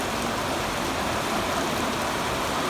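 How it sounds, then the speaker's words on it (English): Steady rain pouring down outdoors during a passing summer storm, a dense continuous hiss and patter with no gaps across the whole stretch. "Listen to it rain."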